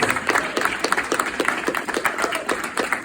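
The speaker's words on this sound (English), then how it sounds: "I think that deserves some applause." Indoor audience at a community organizing gathering breaks into brisk, steady applause, many hands clapping close by for a few seconds with a faint voice underneath.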